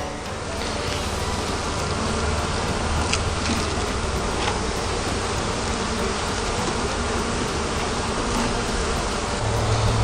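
Honeybees buzzing around an opened hive during an inspection, a dense, steady, close drone that continues throughout with no pause.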